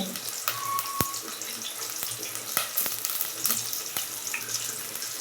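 Onions sizzle steadily in a hot pan in a home kitchen during evening cooking, a constant close frying crackle with scattered sharp pops and brief clinks, no voices.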